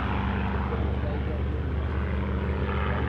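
A vintage Czech Aero 45 twin-engine plane on approach to land on a grass strip, its engines giving a steady, loud, continuous droning roar with a low rumble throughout.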